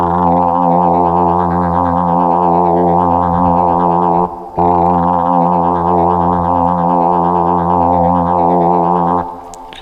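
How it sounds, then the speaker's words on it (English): A bright, harmonically rich FM synthesizer drone with its motion sequence turned off, slow wobbling overtones, plays twice, briefly interrupted by a short gap, then stops near the end. "Now if I turn off our motion sequence, it's going to sound like this."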